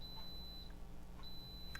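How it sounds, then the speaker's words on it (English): Faint, high electronic beeps from an Instant Pot electric pressure cooker, a few short tones spaced apart over a low background hum. "The Instant Pot's beeping at me"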